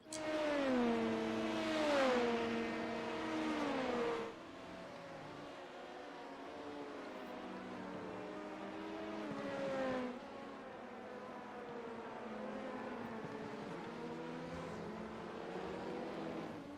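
Race cars at Silverstone in the sim game iRacing, several cars on track with engine notes rising and falling through gear shifts, loudest in the opening seconds then a steadier, softer drone.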